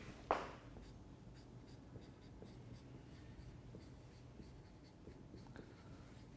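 Writing on a board during a second-year chemistry lecture: a sharp tap at the start, then a long run of soft, faint scratching and scraping strokes with no talk.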